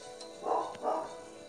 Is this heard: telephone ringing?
no